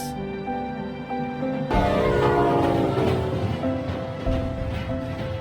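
A passenger train rumbles past with steady mechanical roar and clatter, a sustained horn tone riding over it throughout.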